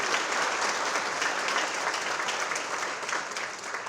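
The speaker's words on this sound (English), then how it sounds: "So a big round of applause for the Children's Services Council." Audience applause at a youth awards ceremony honoring young Floridians, a dense, steady wash of clapping from a large crowd that holds at an even level throughout, with no voices over it.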